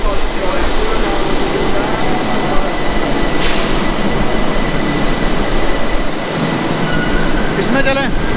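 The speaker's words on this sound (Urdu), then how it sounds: "یہ ہے جی میٹرو" A Tehran metro train, a loud continuous rumble of wheels and carriage noise with a brief metallic squeal and rhythmic clicking near the end, while people talk over it.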